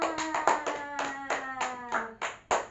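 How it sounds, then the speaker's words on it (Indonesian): A small group of second-grade children claps for a classmate in a classroom, about nine distinct rhythmic claps in unison, close and clear, with a faint tonal hum underneath. "tepuk tangan buat Bunga"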